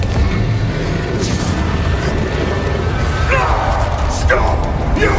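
Confringo explosion spells bursting in Hogwarts Legacy, a steady loud rumble of booming blasts with brief whooshing pops near the end, while someone talks over the game sounds.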